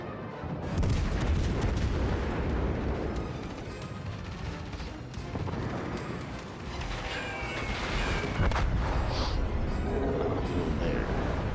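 Warship main guns in World of Warships Legends fire in rolling booms over a dense, continuous game soundscape of explosions and rumble, loud and sustained throughout.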